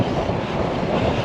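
Strong wind buffets a cyclist's microphone during a fast road ride, producing a loud, continuous roar that fills the whole moment with no voice over it.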